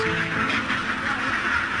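Ducks quacking on a large duck farm near the Philippine Sea, a dense steady chorus of many birds filling the whole stretch at even loudness.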